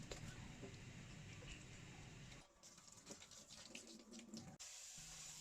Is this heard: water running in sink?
yes